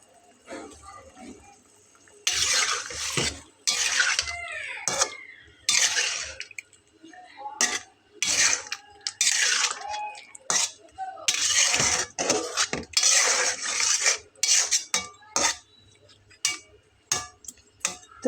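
Vegetables and dal tipped into a hot cooking pan for a vegetarian niramish dish, loud bursts of sizzling and clattering with scraping of a spoon, close and repeated, no talk.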